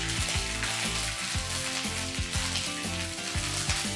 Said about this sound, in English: in the same oil, I'm going to add a teaspoon of ginger paste and a teaspoon of garlic paste and fry it